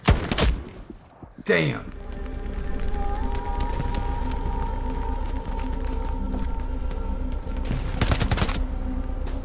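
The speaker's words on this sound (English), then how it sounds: "I hear a sniper." Gunfire in a Company of Heroes battle, with a sharp report near the start and another burst of shots near the end over a constant rumbling battlefield din, and a brief spoken exclamation.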